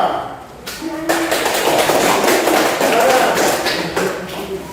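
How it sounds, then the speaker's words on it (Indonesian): A classroom group gives applause for presenting students, a continuous patter of many hands clapping that swells and then tapers off, close and fairly loud. "kita beri aplaus untuk kelompok 2"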